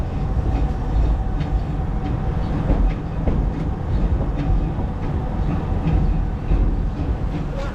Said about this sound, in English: So we took the train